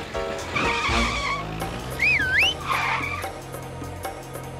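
A cartoon car speeds away with squealing, skidding tires, a wavering screech rising and falling over engine noise, loud and close, with zany sound effects around it.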